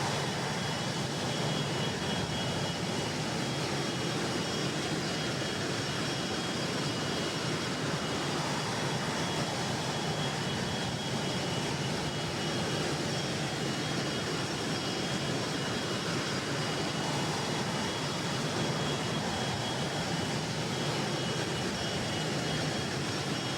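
Steady, loud engine whine and rumble of a Phenom 100 business jet taxiing toward the runway hold short in Microsoft Flight Simulator, a continuous broadband drone with faint tonal hums and no talking.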